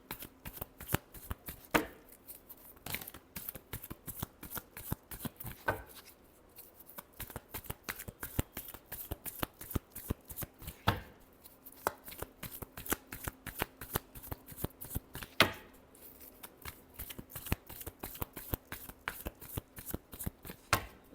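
Tarot cards are shuffled steadily for a long stretch, producing fast, crisp flicking clicks in dense rhythmic runs with brief pauses, close but fairly soft, with no voice over them.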